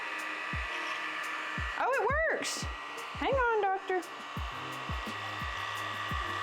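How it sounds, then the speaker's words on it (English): A pet grooming vacuum clipper running at full speed on a dog, giving a steady motor whine throughout, with a few short bursts of talk and a cat-like yowl over it. "we'll turn the vacuum part on full speed"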